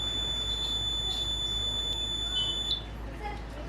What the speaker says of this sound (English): once I close my eyes, then buzzer will turn on